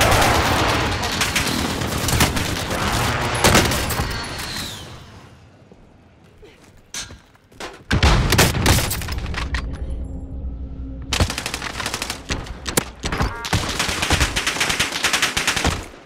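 Kar98k bolt-action rifle shots and other gunfire on Rebirth Island in Warzone, loud bursts at the start, a quieter lull in the middle, then heavy firing again, with voices talking over parts of it.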